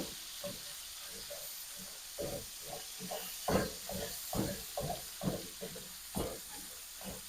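Food sizzles steadily in a hot pan while a spatula chops through it in a quick, uneven series of close knocks and scrapes for In-N-Out style animal totchos, with no voices.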